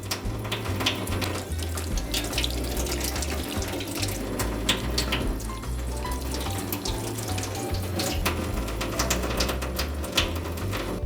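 A kitchen tap runs steadily while caviar is rinsed, held with a cake tester under the stream, a continuous close splashing wash over a faint low hum, with no talk.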